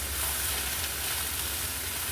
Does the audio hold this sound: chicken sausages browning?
yes